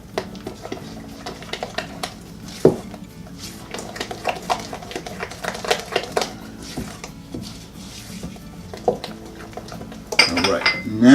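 A utensil stirs sour cream in a bowl for banana bread, producing repeated close clinks and scrapes against the dish, with a louder clatter near the end.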